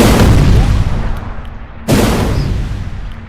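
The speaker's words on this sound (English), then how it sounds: "I thought someone was firing at me" Two loud, close booming blasts of video-game gunfire, each a sudden heavy impact trailing off into a long rumbling decay.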